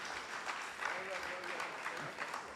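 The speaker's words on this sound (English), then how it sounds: "let's give him a round of applause again" Audience applause at an evening community gathering in San Fernando, honouring the local MP: a soft, steady wash of clapping heard at a distance, with voices murmuring underneath throughout.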